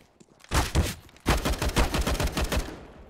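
AUG rifle firing in a CS:GO match on Dust2: a couple of sharp shots, a pause, then a rapid string of close, punchy bursts that trail off.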